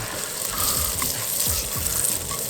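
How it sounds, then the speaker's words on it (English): Sausage with butter, garlic and basil sizzles in a pan on a single-burner camping stove, a steady close frying hiss with light crackles throughout. "the sausage is cooking up really nice, quick"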